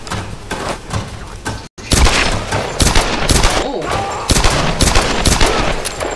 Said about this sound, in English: it's best to use the shotgun against these guys